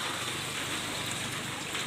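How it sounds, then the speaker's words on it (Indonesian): Steady rain falling outdoors during preparations at an elementary school, a continuous broadband hiss with no distinct drops standing out, fairly quiet and unbroken throughout. "ini suasana hujan nih"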